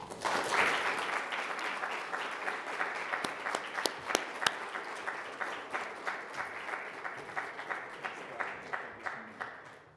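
An audience at a public service lecture applauds, with steady clapping near and loud at first that settles into a thinning, rhythmic patter as a guest lecturer is welcomed.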